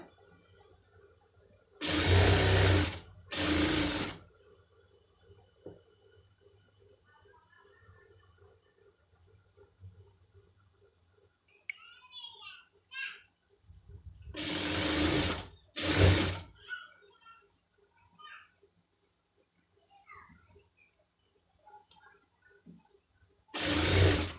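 Sewing machine stitching thread piping onto fabric, running in short bursts of a second or two with quiet handling noises between, close and loud.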